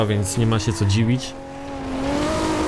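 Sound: Toyota Supra MK4 car driving in Forza Horizon 2 video game

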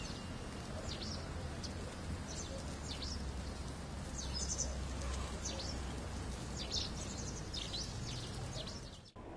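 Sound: pied wagtail calls

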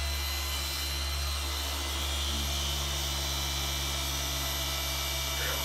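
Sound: polisher with 15 mm throw polishing car paint

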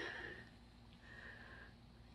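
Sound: dog sniffing around

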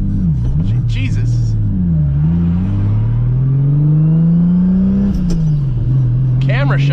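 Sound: Nissan 300ZX project car with 2JZGTE engine driving

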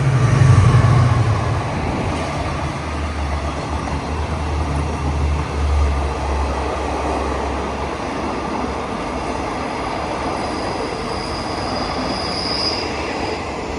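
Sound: Thai express train hauled by QSY 5211 locomotive

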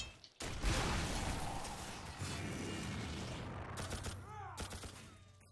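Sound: gunfire in the video game The Darkness 2

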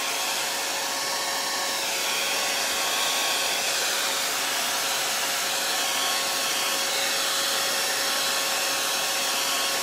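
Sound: hair dryer blow-drying paint

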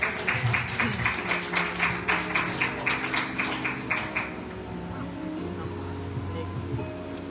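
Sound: congregation giving a hand clap

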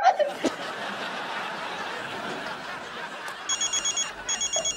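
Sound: telephone ringing

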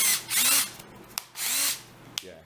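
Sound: power drill mixing resin at slow speed

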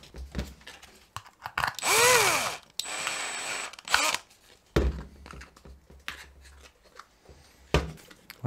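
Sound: drilling a pilot hole

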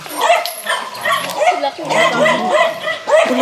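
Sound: dogs barking

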